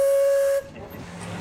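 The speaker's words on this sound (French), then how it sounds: "Fais attention, la vapeur, c'est brûlant." A steam engine releases a loud, sharp whistle-like steam blast that cuts off abruptly, leaving a softer, breathy hiss of escaping steam afterward; no one speaks.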